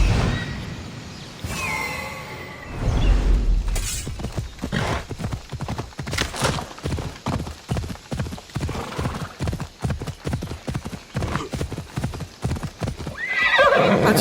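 A horse in an Assassin's Creed game gallops with fast, steady hoofbeats that run for many seconds, loud and close, with a neigh near the start and another near the end.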